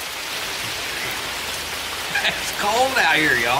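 Steady rain falling outdoors in cold weather at a camp cooking spot, a constant hiss running throughout, with someone talking over it in the second half.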